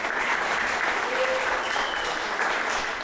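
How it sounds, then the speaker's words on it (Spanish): A church congregation applauds loudly during a Spanish-language service about forgiveness and intercession, producing a continuous, even roar of many hands clapping with a faint voice underneath. "recibámosla una vez más con un fuerte aplauso"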